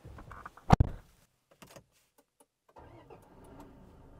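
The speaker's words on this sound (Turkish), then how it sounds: "Aracımızı çalıştırdık ve yola çıkmaya hazırız" A 2024 Toyota Hilux starts up inside the cabin with one sharp crank burst, then a few faint clicks and near silence before a low, quiet idle settles in.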